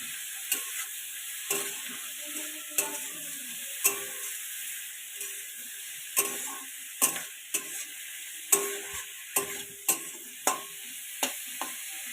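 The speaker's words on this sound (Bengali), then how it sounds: "একটু নুন আর সামান্য একটু হলুদ দিয়ে আমি এটা একটু ভাজবো পেঁয়াজের সাথে।" Eggplant and onion stalks frying in a pan with salt and turmeric, a soft continuous sizzle punctuated by a regular series of sharp scraping stirs and knocks close by, with no talking.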